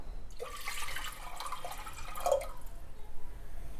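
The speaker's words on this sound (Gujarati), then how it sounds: "કુકરમાં 3 કપ પાણી એડ કરીશું." Water pours into a pressure cooker for dal-rice khichdi, a steady splashing, trickling stream close by that runs for about two seconds and then thins out into quieter dripping.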